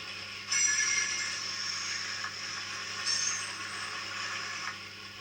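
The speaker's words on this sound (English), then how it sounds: "rail squeal." Rail squeal sound effect from a model Class 43 train: thin high-pitched metallic squeals come in two bursts over a steady hissing, rumbling background, fairly close and without any speech.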